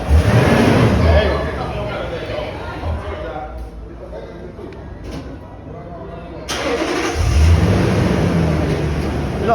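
A big truck's engine roars loudly and close, easing back to a lower rumble before revving up hard again, with people talking and shouting over it.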